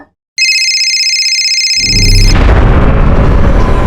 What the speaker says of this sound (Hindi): फोन का आवाज किधर से आ रहा है?